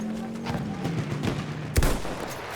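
Rifle gunfire in Battlefield 1 gameplay: one sharp, loud shot cracks near the end, with softer muffled game noise and possible distant shots around it.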